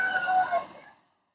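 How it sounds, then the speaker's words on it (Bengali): A rooster crows once at a stall of a livestock fair in Dhaka, a single loud, close call that holds briefly and then fades into silence. "বেশ কিছু মোরগ আছে এখানে"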